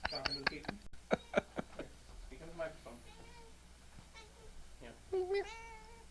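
A domestic cat meows several times in short, fairly quiet calls, mixed with a person talking and softly imitating the meows nearby.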